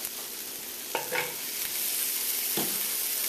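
Vegetable oil sizzling hard in a pan for a spicy beef noodle stir-fry: a steady, close hiss with a couple of brief clatters near the start and end.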